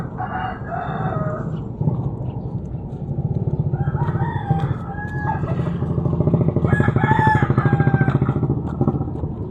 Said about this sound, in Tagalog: Mga manok. Alaga naming manok.